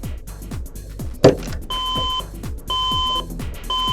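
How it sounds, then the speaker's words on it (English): A computer's anti-theft alarm beeps in repeated steady tones, each lasting about half a second with short gaps, over a low rhythmic background hum and a single sharp knock. "And then I realized that this thing has an anti-theft alarm."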